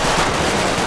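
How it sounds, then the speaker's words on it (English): Dense gunfire during a bank robbery shootout in a GTA game, a loud, continuous roar of overlapping shots with no pauses. "Look at all this gunfire right here."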